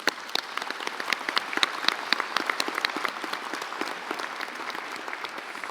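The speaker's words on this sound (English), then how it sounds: "I think you deserve a round of applause." Graduation ceremony audience applauding in a large hall, a sustained spread of many hands clapping at moderate volume with crisp individual claps standing out.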